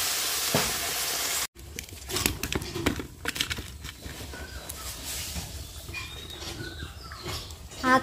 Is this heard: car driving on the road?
no